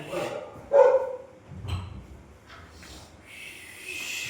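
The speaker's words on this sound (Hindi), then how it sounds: "थारे कुत्ते शांत न हो रहे गुरु" Dogs bark in a couple of rough, mid-distance outbursts, followed by quieter yips and snorts against a muffled background.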